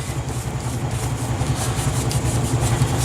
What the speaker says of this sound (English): And that's all I do, is just rub it along.